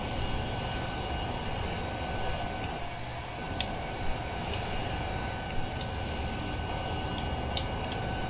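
Steady jet engine whine and roar of an A-10 Warthog taxiing in Roblox, a constant loud drone with a high hiss and a few faint clicks, no voices.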